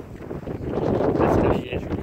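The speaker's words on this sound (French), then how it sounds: "Il y aura sûrement un peu beaucoup de vent" Wind blows hard against the microphone where a river meets the tide, a rough, continuous rumble that builds slightly partway through.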